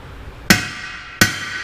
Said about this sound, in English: Let me get a big hammer and smack it pretty hard.